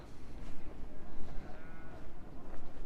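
Several lambs bleat in short, wavering cries at moderate distance, repeating irregularly over quiet outdoor background noise.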